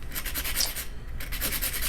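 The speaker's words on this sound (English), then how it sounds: "so then you just smooth it out with the sandpaper" Sandpaper smooths the point of a hand-whittled, sharpened stick in steady back-and-forth strokes. The close rasping rubbing runs continuously, with a short pause midway.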